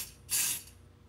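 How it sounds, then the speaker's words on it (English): An aerosol can of smoke detector test spray gives one short hissing burst lasting about a third of a second, close and fairly loud against quiet room tone. "This is the smoke detector spray thing."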